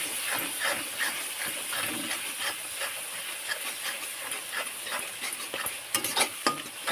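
Egg curry with chopped tomato, salt, turmeric and spice masala stirred and turned over in a hot pan, a continuous sizzle with scraping stir strokes, a few sharper clinks near the end.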